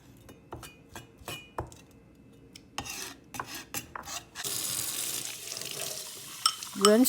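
Shrimp being rinsed in a kitchen sink: scattered splashes, rubbing and glass-like knocks give way to a steady rush of running tap water.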